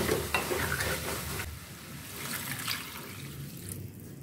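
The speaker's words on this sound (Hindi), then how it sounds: "अब मैं डालूंगी इसमें 1 कप पानी और इसको गलने के लिए छोड़ दूंगी" Water poured into roasted chana dal in a cooking pot, giving a close, steady sizzle and stirring hiss that fades after the first splash.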